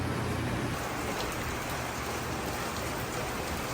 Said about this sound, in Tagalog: Naulan po ngayon dito sa sa Malabon.